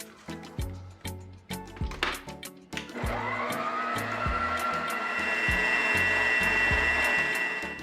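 Saffron milk cake batter being whisked: a few sharp taps and scrapes at first, then a steady, loud, continuous whirring from about the third second onward, with rhythmic knocks against the bowl.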